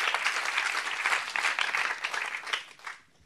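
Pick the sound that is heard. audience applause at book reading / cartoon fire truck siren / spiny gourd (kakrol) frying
audience applause at book reading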